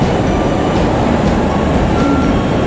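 The Nanki No. 2 limited express train rumbles loudly close by as it pulls into the station, a steady low roar with faint rail squeals and rattling.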